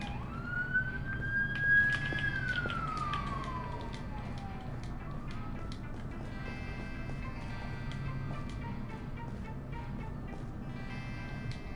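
A wailing emergency siren, in-game, rises and falls through a loud sweeping tone in the first few seconds, then fades into a quieter, steady drone over a low rumbling background.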